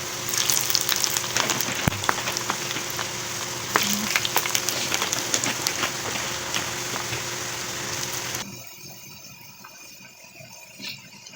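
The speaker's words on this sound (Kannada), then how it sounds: "ಚೆನ್ನಾಗಿ ಗೋಲ್ಡನ್ ಬ್ರೌನ್ ಬರೋವರೆಗೂ ಎಣ್ಣೆಯಲ್ಲಿ ರೋಸ್ಟ್ ಮಾಡ್ಕೊಂಡಿದ್ದೀನಿ" Finger chips deep-frying in hot oil until golden brown give a steady, close crackling sizzle with dense popping; it runs continuously for about eight seconds, then drops to a much quieter background.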